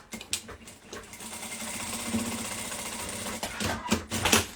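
A sewing machine runs in quick rattling bursts while stitching a handmade women's bag, close and fairly quiet, with brief pauses between runs.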